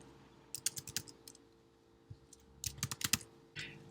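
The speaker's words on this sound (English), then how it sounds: "Type your student's name." Keystrokes on a computer keyboard as a student's name is typed in Microsoft Teams, a quick burst of close, crisp clicks, a pause, then a second flurry ending in a softer swipe.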